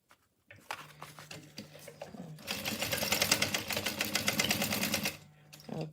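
A sewing machine stitches fabric close by: a few soft clicks and a short start, then a fast, steady mechanical run lasting about three seconds before it stops abruptly.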